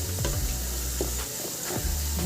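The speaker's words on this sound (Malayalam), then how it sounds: "അല്പസമയം ഒന്ന് വഴറ്റി കൊടുക്കാം" Mango and ginger with turmeric sauté in a pan for a kanthari pickle, giving a soft, continuous frying hiss with faint stirring sounds close by.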